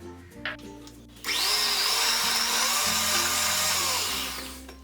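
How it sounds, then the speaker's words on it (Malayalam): An electric mixer whirs loudly for about three seconds, its motor whine wavering slightly as it beats cake batter with vanilla essence for cupcakes. Background music plays under the motor noise. "ഇതിലേക്കിനി 1 ടേബിൾ സ്പൂൺ വനില എസൻസ് കൂടെ ഒഴിച്ച് ഇതൊന്നും കൂടി ഒന്ന് ബീറ്റ് ചെയ്ത് കൊടുക്കാം"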